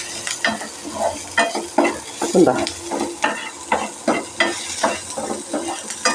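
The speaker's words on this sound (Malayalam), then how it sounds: "അപ്പോൾ ഉള്ളി ചെറുതായിട്ട് മുതൽ നമുക്ക് ക്യാരറ്റും 2 പച്ചമുളകും ഇട്ട് കൊടുക്കാം." Chopped onion, carrot and green chillies fry in a hot pan while a spoon stirs them, giving rhythmic scraping strokes over a steady sizzle, close and clear, with a brief spoken word.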